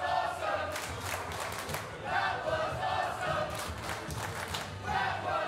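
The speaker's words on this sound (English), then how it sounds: "crowd says it best, showing their appreciation" A wrestling crowd at a deathmatch shouts and cheers in rhythmic swells, loud and roomy, rising and falling in repeated chant-like bursts.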